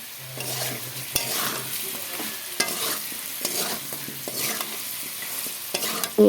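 Raw banana frying with salt in a pan, continuous sizzling with repeated scraping stirs and occasional sharp clicks of the utensil against the pan, close and clear.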